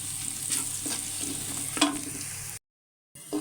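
Onions sizzling and crackling in a hot pan as they brown, with a stirring scrape partway through, then a brief silence and a little more frying.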